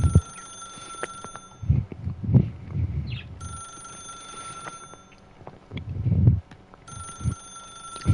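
A telephone rings in The Stanley Parable, sounding in repeated bursts of a steady electronic bell tone, with two pauses between rings, over low rumbling game background and thumps.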